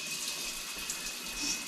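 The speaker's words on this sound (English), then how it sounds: "I just quick rinse these tomatoes," Water runs steadily from a kitchen tap to rinse tomatoes, a continuous bright hiss of flow at close range with no talking.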